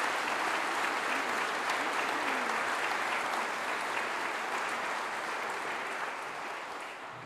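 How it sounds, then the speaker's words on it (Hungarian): Concert audience at a wind band's New Year concert applauding, a steady, full wash of clapping from a large hall crowd that holds level and then tapers slightly toward the end. "Ez egy tapsot mindenképpen megérdemel."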